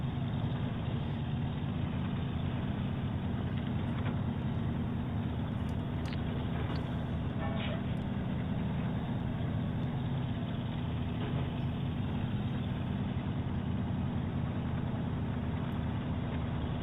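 A Freestar truck in the SnowRunner video game drives with a steady, dense, low engine drone that holds at an even level throughout, loaded with concrete blocks and a metal beam.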